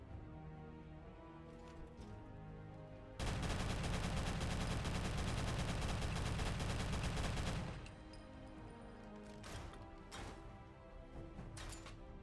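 Heavy automatic fire from MK22 and MK19 weapons in a Fallout 4 weapon mod: a sustained loud burst of about four seconds, with scattered single shots and impacts before and after.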